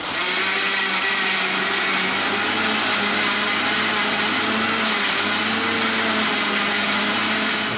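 A blender whirs steadily at full power, blending a papaya and black pepper smoothie, a loud continuous motor roar with dense grinding texture that holds for the whole stretch without pauses.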